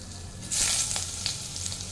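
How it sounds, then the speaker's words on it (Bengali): Potato pieces dropped one by one into hot oil burst into a loud, bright sizzle that settles into steady close frying, with no voices. "আলুটা গরম হয়ে গেছে, তেলটা আমার গরম হয়ে গেছে, আমি আলুগুলো দিয়ে দিচ্ছি একে একে।"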